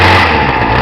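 Gas string trimmer engine just after a pull start, a loud, close, continuous small-engine buzz running steadily for under a second.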